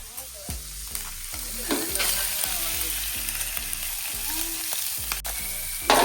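Loud, steady sizzling of vegetables frying in oil, with rhythmic knocks and scrapes of a utensil stirring the pan.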